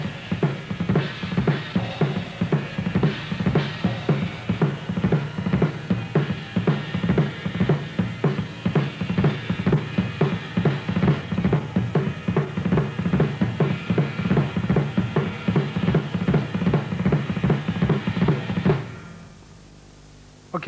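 A drum kit plays the pattern from a song, a rapid, driving groove of kick, snare and cymbals hit in steady rhythm, loud and close for nearly twenty seconds, then ringing out.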